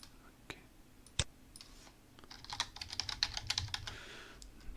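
A password is typed on a computer keyboard in a quiet room: one sharp key click, then a rapid run of soft tapping keystrokes, close and clear with no talking.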